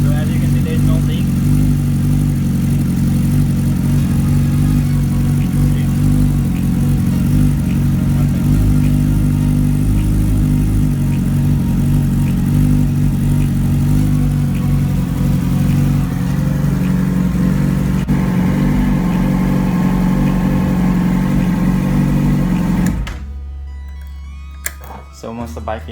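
A Yamaha R6 sport bike idles steadily while warming up after an oil and filter change, a loud continuous low engine drone close by that cuts off near the end.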